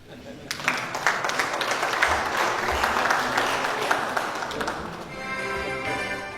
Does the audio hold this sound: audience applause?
yes